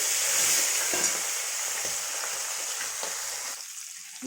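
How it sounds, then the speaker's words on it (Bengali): Hilsa fish frying in a pan gives a strong, steady sizzle with light stirring scrapes, and it eases off sharply near the end. "আমি একটু ভেজে নিই মাছগুলো"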